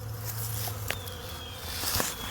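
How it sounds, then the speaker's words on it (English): Bees feed at syrup poured around the rim of a bucket, giving a faint steady insect buzz with a low hum and a couple of soft taps, no voices. "And so these bees are taking that syrup with all those nutrients involved inside."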